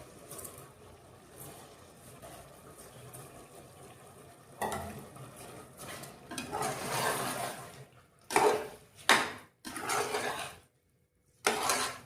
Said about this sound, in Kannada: ವಾಶ್ ಮಾಡಿ ನೆನೆಸಿಟ್ಟಿದ್ದಂಥ ಅಕ್ಕಿನ ಈಗ ಹಾಕ್ಕೊಳ್ತಾ ಇದ್ದೀನಿ.